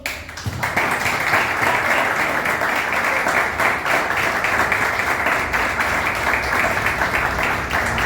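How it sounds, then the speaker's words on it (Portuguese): A church congregation claps together in steady, sustained applause, loud and close, filling the hall with a dense rattle that carries on evenly throughout. "Vamos dar uma salva de palmas ao Senhor"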